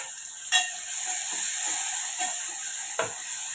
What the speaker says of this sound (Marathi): हा कांदा आपण छान परतून घेऊया।